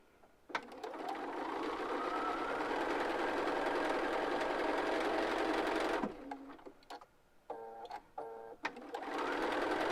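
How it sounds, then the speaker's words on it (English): A Bernina sewing machine with a 1/4 inch foot stitches fabric pieces for flying geese quilt blocks. It runs in a fast, steady, close whirr, pauses briefly for a few short bursts of stitching, then starts again. "So now I'm going to sew my 1/4 inch"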